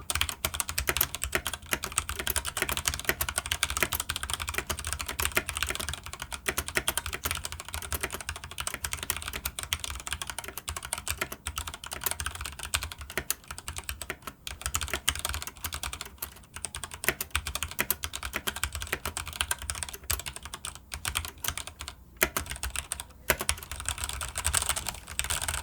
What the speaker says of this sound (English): let's test out some of the most highly regarded switches on the market, the Gatoron Yellow Ink switches, using the new hot swap ability and that switch puller